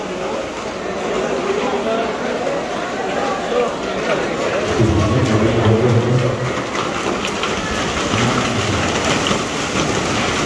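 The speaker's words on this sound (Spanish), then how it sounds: "Se oye granizo," Heavy rain and hail pour down in Mexico City in a continuous dense roar while someone talks intermittently over it.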